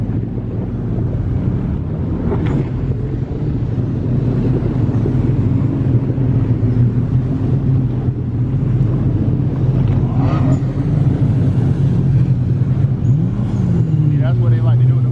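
A supercharged jet ski engine on open sea water, its drone rising and falling under heavy wind buffeting and wave noise, with a sharp rev surging near the end.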